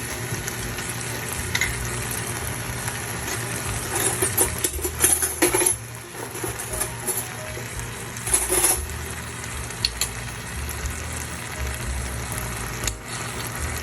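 Butter and ghee sizzle steadily in a pan with asparagus risotto, close and continuous, broken by occasional sharp metallic clinks and stirring scrapes. No voices are heard.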